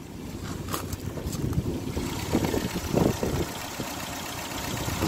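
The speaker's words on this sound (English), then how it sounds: "So very, very quiet for an MGB engine." A 1972 MG MGB GT engine idles with a steady, quiet low rumble that stays even for the whole stretch, with no voices over it.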